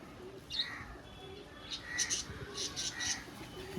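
Madrasa pigeons, fancy-breed birds kept by a breeder, give soft coos and chirps at moderate distance, several brief calls spread across a quiet background with a faint hum.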